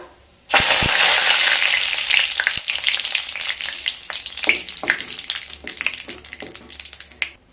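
Mustard seeds, two dry red chillies and curry leaves hit hot oil with ghee, bursting into a loud sudden sizzle that settles into steady crackling and popping with occasional stirring clinks, close and alone without talk.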